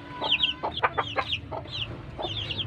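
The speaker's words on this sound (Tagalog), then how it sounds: "Marami na namang manok na Bisaya" Native Bisaya chickens cluck in a short run of repeated calls, moderately close, over a steady low rural background hum.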